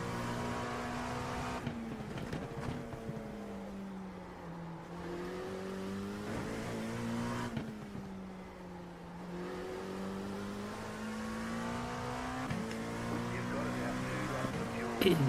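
Race car engine in the iRacing video game at Sebring during a 12-hour race, a steady droning whine that rises and falls with gear changes and throttle across the lap, continuous and moderately loud.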